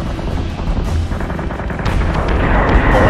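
Heavy ship cannon fire in the space combat game Battlestar Galactica Deadlock, with continuous booming blasts and rumbling impacts that swell louder toward the end, rapid sharp reports layered over a dense low roar.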